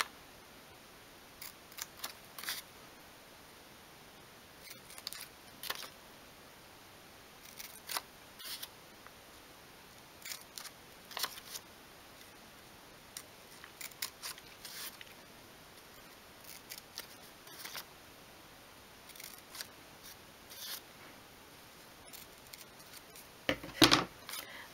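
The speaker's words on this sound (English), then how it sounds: "And then we're just going to snip each of those squares out." Small scissors snipping squares out of paper for a 1/12th scale shell frame, quiet crisp cuts in short irregular clusters with gaps, close up and alone, ending in a louder handling clatter.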